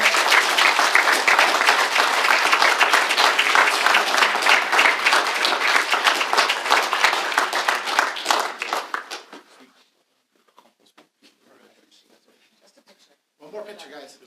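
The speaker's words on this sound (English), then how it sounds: "Let's give them a big round of applause." At a city council meeting, a crowd breaks into loud, sustained applause and cheering that carries on for several seconds, then cuts off, leaving a quiet room with a few scattered murmurs.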